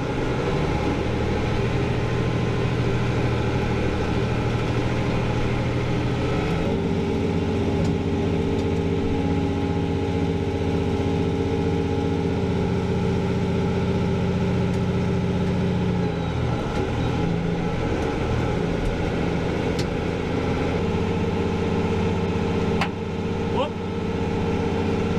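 A farm tractor runs with a manure spreader in tow, its engine a loud, close, continuous rumble with steady low droning tones that shift in pitch partway through as the load changes.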